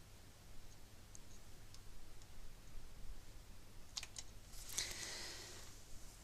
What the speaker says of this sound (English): I'm holding down the shift key on the keyboard, I'm holding down the scroll button,